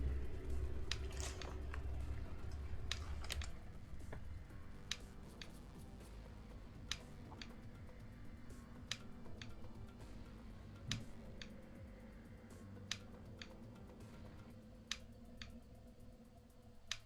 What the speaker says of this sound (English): when you hear that clicking sound, when things get quiet, that's my controller